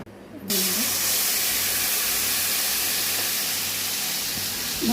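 A mixer grinder whirs steadily while grinding tamarind paste ingredients, a loud, continuous broadband roar that starts abruptly after a brief quiet moment and runs unbroken to the end.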